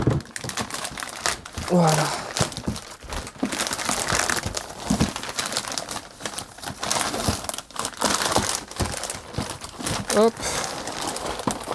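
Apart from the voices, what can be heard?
unpacking RC520 parts from crinkling packaging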